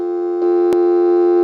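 A Harris TS22 lineman's butt set with its amplifier switched on emits a steady, loud buzzing dial tone that grows slightly stronger partway through, broken by one brief click.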